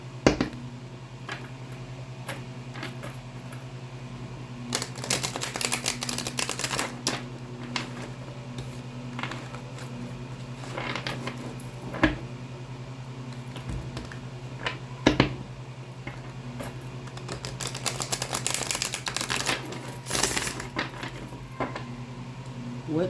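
Rider-Waite tarot cards being shuffled, soft crisp riffling bursts and scattered light taps over a steady electrical hum, moderately close, with two longer flurries of shuffling among quieter card handling.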